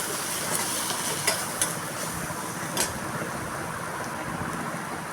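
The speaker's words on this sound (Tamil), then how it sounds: "இது எல்லாமே நல்லா பச்சை வாசனை போகிற அளவுக்கு நல்லா வதக்கிக்கணும்" Curry masala powder and other spice powders sauté in a pan for a coconut milk rice and meal maker fry dish, giving a steady close-up sizzle with a few brief scraping stirs and no talking.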